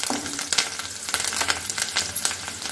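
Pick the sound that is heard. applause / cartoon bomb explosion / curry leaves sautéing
curry leaves sautéing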